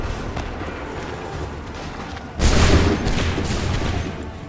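A musket volley in Assassin's Creed III, where a sudden loud burst of massed gunfire breaks over a steady background rumble midway through and trails off into a roaring, crackling wash.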